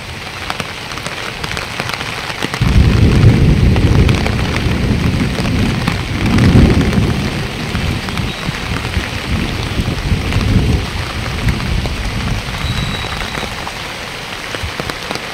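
Heavy rain suddenly pours down on Telangana farmland where harvested crops were left out to dry, a dense, loud roar of rain on surfaces with deeper rumbling surges and no talk.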